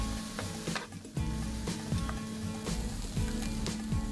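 Food sizzles in a hot pan on a home stove while a spoon scrapes and stirs it, giving repeated scraping strokes over a steady close sizzle with no talking.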